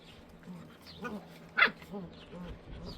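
Small dogs yip and bark a few times at close range, one sharp bark standing out amid quieter whines and background noise.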